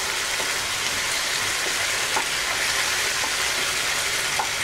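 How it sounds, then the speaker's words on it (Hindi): Onion frying in a pan until it turns brown, a steady dense sizzle with faint crackles and pops, close and continuous with no voices. "इसको स्टिर करूंगी, तब तक इसको फ्राई करूंगी तब जब तक ये ब्राउन ना हो जाए।"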